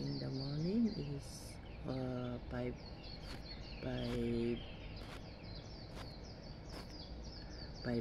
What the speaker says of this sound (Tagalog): naririnig ko yung huni ng mga ibon